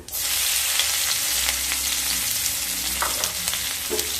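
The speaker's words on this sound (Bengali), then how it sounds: "ওই তেলের মধ্যে হাফ চামচ গোটা জিরে দিয়ে দেব আর ছ সাতটা রসুন আমি কেটে রেখেছি দিয়ে দিলাম" Whole cumin seeds and six or seven cut garlic cloves hitting hot oil in a pan, a loud, dense, continuous sizzle with a few stirring scrapes, close up and steady throughout.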